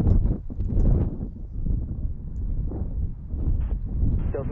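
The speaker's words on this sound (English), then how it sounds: "Jeez, it is windy." Strong gusting wind buffets an outdoor microphone at Denver airport, a steady low roaring rumble that swells and dips throughout with no voices heard.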